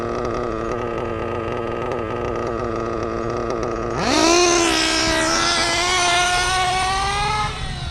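Reedy 121-VR nitro engine in an RC8T during break-in, buzzing at a steady idle and then opening up to about half throttle, a high, loud drone that holds with a slight wavering whine.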